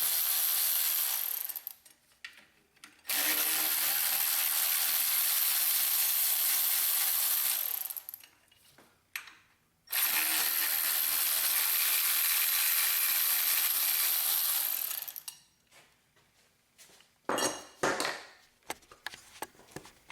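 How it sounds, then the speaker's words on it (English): A hand ratchet backs out the mounting bolts on the AC compressor of a 1994–2004 Jeep, giving two long runs of fast, close clicking separated by pauses, then a few scattered clanks of tool and metal. "now we take 5 bolts out, 4 for the compressor and 1 for the compressor mounting bracket here"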